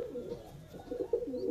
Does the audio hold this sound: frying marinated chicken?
no